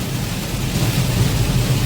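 Heavy stormy rain pours in a constant wash on the road between Solapur and Hyderabad, with a low stormy rumble underneath throughout the short stretch.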